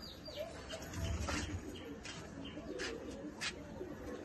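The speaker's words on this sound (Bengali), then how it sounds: "অসাধারণ পায়রা, গিরিবাজ পায়রা" Giribaz pigeons coo softly in low, rolling murmurs, with a few sharper chirps and faint background noise, close but quiet.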